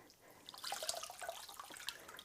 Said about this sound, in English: take my cold water, I'm going to pour it over top of her feet.